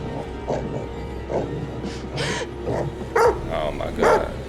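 A dog in the horror video game The Devil In Me barks and yips repeatedly in short bursts at moderate volume over a low game ambience, and some faint voice-like sound sits in the mix.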